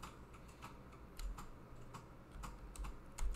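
Keys clacking on a Jupiter ACE home computer keyboard, a brisk series of light, close key presses at an uneven rhythm over a faint low hum.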